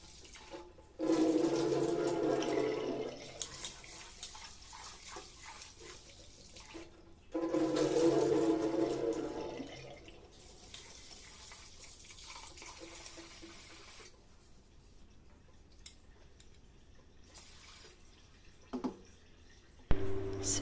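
Tap water running into a pot or rice cooker pan to measure water for cooking rice, two steady pouring bursts with quieter handling and dripping between them, close and alone.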